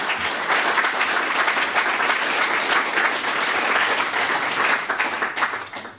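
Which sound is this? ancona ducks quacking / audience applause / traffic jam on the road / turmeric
audience applause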